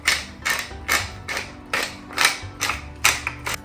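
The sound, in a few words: grinding black pepper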